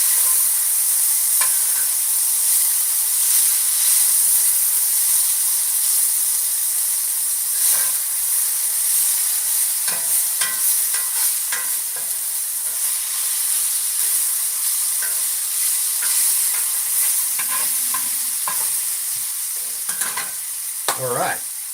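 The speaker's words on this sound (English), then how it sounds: "There we go, a little popping and sizzling." Food coated in bacon drippings sizzles and pops steadily in a hot cast iron skillet, a dense crackling hiss with scattered sharper pops, close and loud, no voices.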